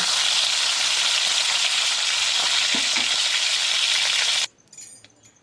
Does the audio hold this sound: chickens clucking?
no